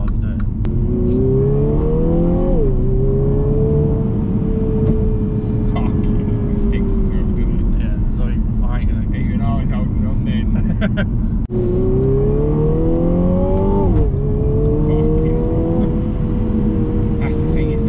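A 2020 Mini Clubman John Cooper Works with a 306 bhp engine revs hard as it accelerates, its pitch climbing in two clear surges through gear changes, steady and loud under continuous talk in the cabin.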